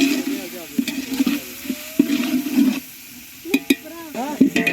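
Food is stirred and mixed in a pot with intermittent scraping and soft sizzling, while people talk over it throughout.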